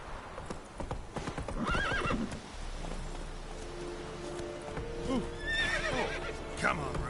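Roach, the horse in The Witcher 3, trots with rhythmic clip-clop hoofbeats and lets out neighs and whinnies, while someone speaks over the hoof sounds.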